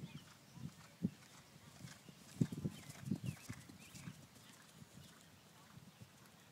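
A mare's hooves clip-clop in an uneven rhythm of soft thuds while cantering, fairly faint and a little distant, with a few quiet bits of speech mixed in.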